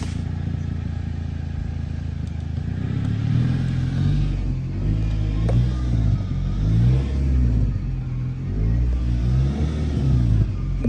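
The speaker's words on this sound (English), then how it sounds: "hear it trying to go in reverse. It seemed like it went in reverse." A Nissan Sentra engine with a CVT transmission revs steadily and loudly for about eleven seconds while the transmission tries to engage reverse, its pitch rising and falling in repeated surges with a faint clatter beneath, and no one speaks.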